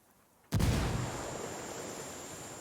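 A frag grenade explodes in a video game with a single loud, close blast, followed by a long fading rumble and a high ringing tone that holds to the end.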